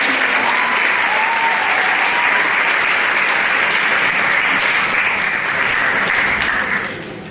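Loud, continuous audience clapping for student stage crew helpers at a high school Mr Hoosac pageant, a full even roar of applause that holds steady before tapering off at the close.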